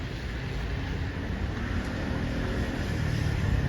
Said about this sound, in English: Scooters everywhere,